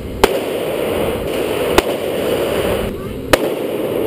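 A Smith & Wesson M&P 40 pistol fires three sharp, evenly spaced shots about a second and a half apart, each a loud crack over a steady background hiss.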